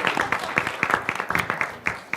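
Student government senators applaud after a confirmation vote at a meeting. The clapping is brief, scattered and fairly close in a room, as a modest round from a small group.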